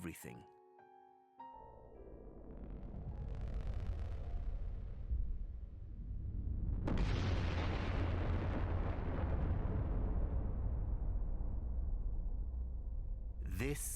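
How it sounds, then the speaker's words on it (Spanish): A supernova explosion sound effect in a Spanish-language science documentary about the universe: a deep rumbling blast that swells into a sustained roaring wash with a second surge midway, loud and continuous after a brief quieter opening. "Esta es una supernova de tipo A1, una estrella en explosión."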